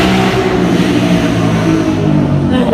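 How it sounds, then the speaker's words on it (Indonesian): Motorcycles on a road not far from an abandoned hospital, a loud, steady engine drone with a droning, revving tone holding throughout. "jadi kedengeran banget suara motor ya guys ya"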